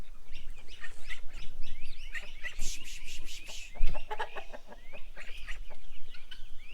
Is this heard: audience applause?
no